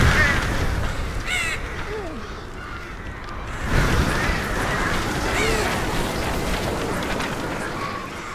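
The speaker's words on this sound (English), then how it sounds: "go away, you stupid crows" Crows cawing in the video game Tearaway Unfolded, repeated harsh calls scattered over a continuous rumbling game soundscape, fairly loud throughout with no talk.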